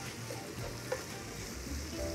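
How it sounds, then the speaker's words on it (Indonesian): Oatmeal fried rice with egg and shrimp frying in a pan, giving a steady close sizzle with soft stirring scrapes and no talking. "Kita goreng."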